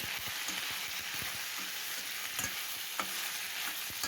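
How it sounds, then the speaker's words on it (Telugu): Half a kilo of thinly sliced long eggplant frying in a pan, giving a steady loud sizzle with spatula stirring and scraping clicks throughout, and no voices. "ఇందులో ఒక హాఫ్ కేజీ వరకు సన్నగా పొడవుగా కట్ చేసి పెట్టుకున్న వంకాయలను వేసుకుని రెండు నిమిషాలు వేయించుకోవాలి"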